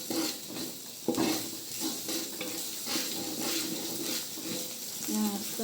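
Shallots and Aceh noodle paste stir-fry in a pan, a continuous soft sizzle with scraping spatula strokes and occasional clinks of the utensil, heard close up under brief talk.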